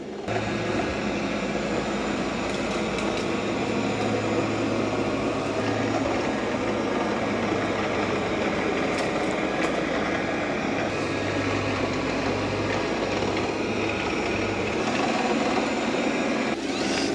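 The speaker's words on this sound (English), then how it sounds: "It's doing a pretty good job of vacuuming." A Roomba i5 or Shark IQ robot vacuum cleaner runs across the floor with a steady, continuous motor whir and a low hum that holds evenly throughout, with no talking.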